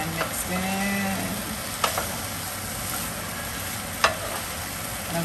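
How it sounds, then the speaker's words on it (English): Potatoes sauté in a pan with a steady, even sizzle throughout, broken by two brief clinks of utensil against the pan, with no talking. "And as they continue to saute"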